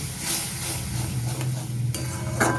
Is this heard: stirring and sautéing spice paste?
yes